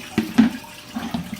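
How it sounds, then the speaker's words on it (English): Water from a hose gurgles and splashes in short, uneven bursts, close and moderately loud, with no voices over it. "Listen to the water."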